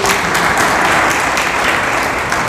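A crowd at a journalists' association event bursts into loud, dense applause, a close, continuous wash of many hands clapping together with no talk over it.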